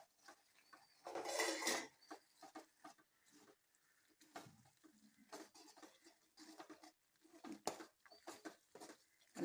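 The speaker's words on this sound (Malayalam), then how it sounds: "ഇതിലേക്ക് നമ്മൾ ബീഫ് കണ്ട വറുത്ത് വെച്ച ബീഫ് നമ്മൾ ഇതിലേക്ക് ഇട്ട് ഇളക്കി കൊടുക്കാം" A spoon stirs fried beef into beef pickle in a pan, giving scattered scraping and clinking knocks of metal against the pan, moderately close, with quiet gaps between strokes.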